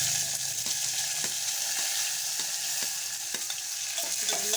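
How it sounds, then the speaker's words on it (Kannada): Onion goes into hot tempering oil with mustard seeds for a drumstick stir-fry, producing a loud steady sizzle broken by regular spatula taps and scrapes, with no talking. "ಈಗ ಉಳ್ಳಾಗಡ್ಡಿ ಹಾಕ್ಬೇಕು ನೋಡಿರಿ"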